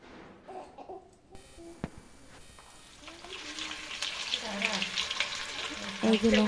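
Chili pakoras made with gram flour batter frying in hot oil, a soft sizzle building steadily and growing louder toward the end, with brief clatters at the start.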